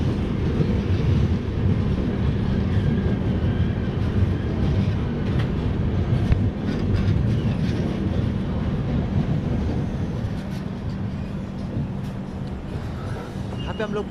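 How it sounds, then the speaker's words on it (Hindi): Golden Temple Mail rolling into platform 1 at Sawai Madhopur station, a steady loud low rumble with faint clatter running under the whole stretch, fading slightly toward the end. "सवाई माधोपुर के प्लेटफॉर्म नंबर 1 पे अपनी गोल्डन टेम्पल मेल आ चुकी है।"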